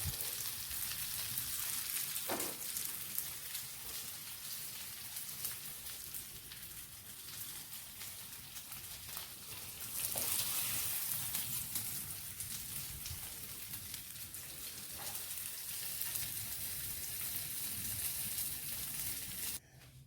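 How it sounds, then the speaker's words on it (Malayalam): Fish fries in coconut milk in a hot pan, producing a steady, dense sizzle and crackle that continues without a break, close and fairly loud throughout with no voices. "നമ്മൾ ആ മീനെല്ലാം ഫ്രൈ ചെയ്തെടുത്തു"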